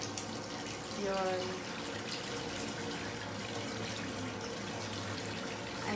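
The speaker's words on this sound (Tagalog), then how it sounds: "Lagyan natin ng water yung tub." Tap water runs steadily into a bathtub in a Manila hotel bathroom, a continuous close rushing under a brief spoken word.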